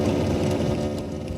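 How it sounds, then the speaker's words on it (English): A simulated car engine in Unity drones loudly and continuously, a buzzy revving tone with a slight rise and fall, with no talking over it. "if we press the gas, we can actually hear the engine revving"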